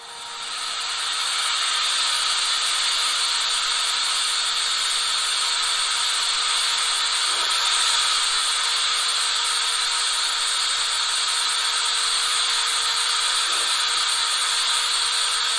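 A 1:32 gauge 1 BR 89.74 model steam locomotive with cylinder steam runs slowly on a test loop, giving a steady, close, hissing whir of motor and steam with faint soft clicks from the track.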